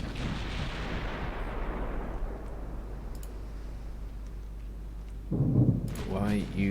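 Warship guns fire high-explosive shells in the naval game Ultimate Admiral Dreadnoughts, a heavy rumbling boom decaying over several seconds, then another loud blast near the end with a voice speaking briefly.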